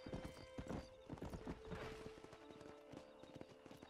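Horse hooves clip-clop rapidly and steadily in the video game Red Dead Redemption on Xbox One, close and clear, with a brief whinny.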